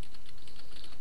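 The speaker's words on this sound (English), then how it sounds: "you can just type away there" Rapid, close clatter of fingers typing on a computer keyboard, a dense run of keystrokes with no voices over it.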